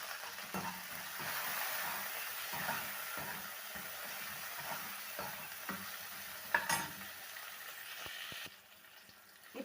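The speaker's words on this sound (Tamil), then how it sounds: "ஆனியன் வதக்கும் போது கொஞ்சமாக உப்பு சேர்த்து வதக்கிங்க." Onions and curry leaves sautéing in a pan for radish sambar, a soft continuous sizzle with a spoon stirring and scraping at an uneven rhythm, close but quiet, with no talking.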